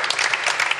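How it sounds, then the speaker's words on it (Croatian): A studio audience on a talk show gives Dara loud, dense applause, many hands clapping close together without a break. "ja veliki aplauz za Daru, molim vas"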